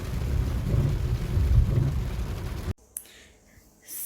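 Heavy rain drums steadily on a car driving along a road, a loud, dense hiss that cuts off abruptly to near quiet after under three seconds.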